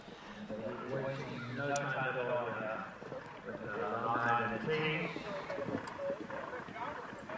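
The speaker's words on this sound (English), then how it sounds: "What a gallop on him." Galloping hoofbeats of a horse on a cross-country eventing course, muffled and partly buried beneath continuous excited commentary throughout.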